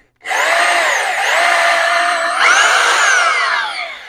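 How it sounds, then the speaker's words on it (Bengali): An electric drill whirs up sharply from silence and spins at a steady high whine for about four seconds, its pitch wavering and rising once before it starts winding down at the end. "এখন ড্রিল মেশিন করলে ওটা ঘুরতেছে"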